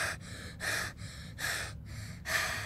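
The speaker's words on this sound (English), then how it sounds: "That is some loud breathing, buddy." Loud, scared breathing from a character in the horror game Find Yourself comes as four sharp, rhythmic gasping breaths roughly every three-quarters of a second, close and harsh, with quiet gaps between them.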